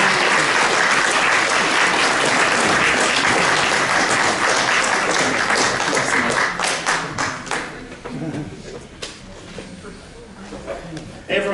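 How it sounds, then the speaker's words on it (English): A large audience claps loudly and steadily, then the applause thins and tapers off toward the end. "Please welcome, with a round of applause, Dr. Phil Stokes."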